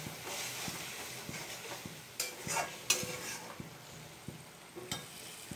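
A spice paste for a fish curry fries in hot oil with a steady soft sizzle, while a spoon stirs and scrapes the pan in regular clinks.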